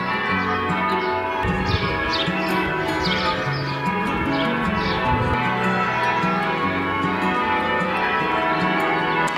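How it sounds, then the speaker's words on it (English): Holy Trinity Church bells in Stratford-upon-Avon ring steadily and loudly, their overlapping tones sounding continuously, with light bird chirps faintly in the background. "As you can hear, the church bells are going off and it sounds lovely."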